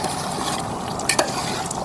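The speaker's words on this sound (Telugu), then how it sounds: "ఈ 5 నిమిషాలు ఇలాగ తిప్పుకుంటే అడుగంటకుండా ఉంటుంది" A pan of chicken curry thickened with ground cashew paste is stirred steadily, giving a close, continuous scraping rustle over a soft simmering sizzle, with a couple of sharper utensil scrapes near the middle.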